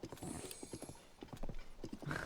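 A horse gallops in Zelda Tears of the Kingdom, its hooves clip-clopping in a quick, steady rhythm that is quiet and even throughout, with no voices over it.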